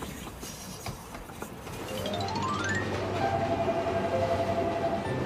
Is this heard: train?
yes